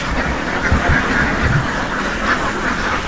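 Ducks are calling at a poultry farm in Candaba, Pampanga, with scattered quacks from a flock mixed into a steady, broad background noise and no talking.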